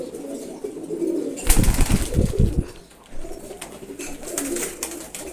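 A young male pigeon, about five or six months old, coos in low throaty bursts, with a louder, close flurry of rumbling coos and possible wing movement in the middle, and no talking.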